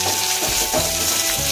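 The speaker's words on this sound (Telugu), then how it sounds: "నూనె పోసుకొని నూనె వేడెక్కాక కొంచెం జీలకర్ర, కట్ చేసి పెట్టుకున్న ఉల్లిగడ్డ వేసి కలుపుకొని" Cumin seeds and chopped onions frying in hot oil in a pan for a spicy Maggi dish, a close, steady sizzle with faint stirring scrapes.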